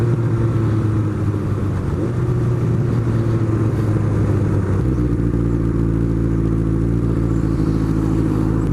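A Honda Nighthawk motorcycle engine runs through town at a steady, loud idle-to-cruise drone, with a low rumbling hum that wavers early on and then settles into an even tone.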